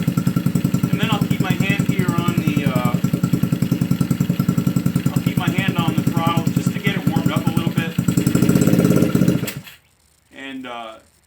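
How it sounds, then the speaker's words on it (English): A Motoped motorbike engine idles and warms up with a steady, fast chugging pulse while a person talks over it. The engine then cuts out, leaving a short burst of speech in near silence. "let's go ahead and start it up and let the engine warm up a little bit"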